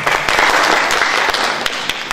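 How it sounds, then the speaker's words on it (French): Steady applause from a festival crowd, dense clapping filling the whole stretch at a loud, even level with a few sharper claps standing out. "C'est pour ça que je demande qu'on l'applaudisse très fort."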